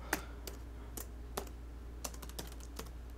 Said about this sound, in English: I know I could have copied and pasted it, but I feel like typing.